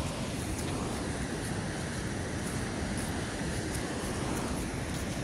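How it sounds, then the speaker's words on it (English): Big ocean waves in the morning, a continuous broad wash of surf mixed with wind buffeting the microphone, steady and moderately loud with no voices. "Big waves this morning."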